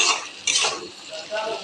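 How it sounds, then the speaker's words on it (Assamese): Chopped tomatoes are stirred in a cooking pan for an egg curry, with a metal spoon scraping and clinking against the pan in a few close, uneven strokes. "এনেকে অলপ লৰাই দিব।"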